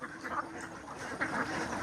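Ducks on a large duck farm in Laos give several nasal quacks in two quick bursts at moderate distance over a low, steady background murmur.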